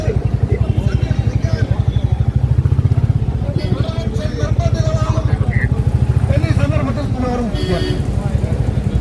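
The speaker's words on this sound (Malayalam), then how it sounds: "ആൽമരത്തിൻ്റെ ഒരു സൈഡിൽ നമ്മൾ ബൈക്ക് പാർക്ക് ചെയ്യാനുള്ള ശ്രമമാണ്" A motorcycle being parked beside a banyan tree chugs at idle in close range, its low engine putter pulsing evenly throughout, with a person talking over it.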